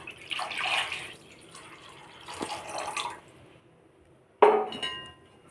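Water splashes and pours into a cooking pot while Tamil-style anchovy fish curry is being made at home, a few rushing bursts ending in a sharp metallic clink near the end.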